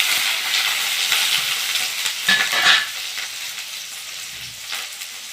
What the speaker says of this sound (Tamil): இப்போ வந்து என்னாச்சுன்னா வெங்காயமும் பச்சை மிளகாயும் சேர்த்துக்கிறலாம்.